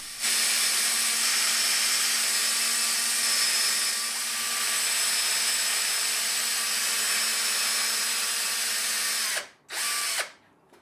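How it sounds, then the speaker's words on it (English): A power drill with a plug cutter whines steadily at high speed for several seconds as it bores plugs from scrap wood, then stops, briefly restarts and cuts out. "I use it to cut enough plugs from a piece of scrap"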